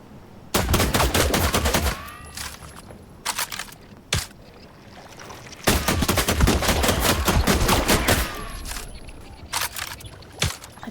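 In The Last Caretaker, a gun fires at pink blobs in loud, rapid bursts: two long volleys separated by short clusters of shots and brief pauses, heard without talk.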